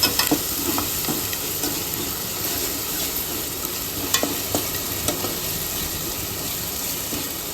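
Steady sizzling of green chillies and spices frying in a pan for quail pepper gravy, with occasional scraping clicks of stirring, continuous and close, with no voices.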